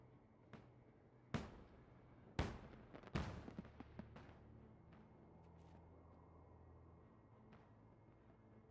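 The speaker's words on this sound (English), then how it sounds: "Am I just watching them fire the fireworks or something?" Fireworks in the video game Guild Wars 2 pop and crackle in a handful of sharp bursts, the loudest clustered early, followed by sparkling crackles that fade into a quieter ambient bed.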